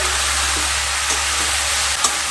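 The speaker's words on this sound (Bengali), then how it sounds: "এবার দিয়ে দেব পরিমাণ মতো লবণ। একটু নেড়ে নিচ্ছি।" Bottle gourd pieces stirred with salt in a hot pan for lau shukto, giving a steady close sizzle and soft scraping for a couple of seconds with no talking.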